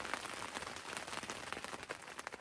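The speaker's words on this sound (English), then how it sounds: "I'm just gonna wait out this current shower" Rain shower patters steadily on a tent during a backpacking trip in Johnson Canyon, North Kananaskis, a dense, close crackle of drops with no voices.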